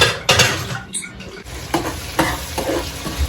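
Hot oil sizzles loudly as spices hit the pan while tempering dal, with a spoon scraping and stirring in quick bursts.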